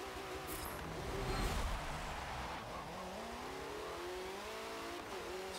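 A BMW race car engine revs and climbs through gears on a lap of Laguna Seca in Forza Motorsport 7, loud and continuous with rising pitch sweeps and a brief tire squeal, no talking.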